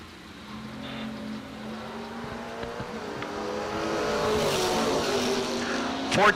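A Chevrolet Camaro and an S10 launch at a drag race. Engine roar rises and builds as the cars pull away, with shifting revs and a sharp burst near the end, heard from trackside.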